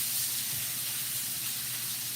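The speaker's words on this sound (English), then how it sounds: "I'm gonna take these vegetables and see how many I can not get on the floor and put these right into the skillet" Vegetables sizzle in hot oil in a skillet, a steady, close, bright hiss of frying with no talking.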